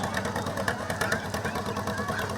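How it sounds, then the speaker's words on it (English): A John Deere hit and miss engine runs nearby at a Christmas parade, giving a steady, loud, rhythmic chugging with regular pulses and a busy crowd murmur underneath. "Here's a John Deere. Sounds like something you can make ice cream with. That hit and miss engine."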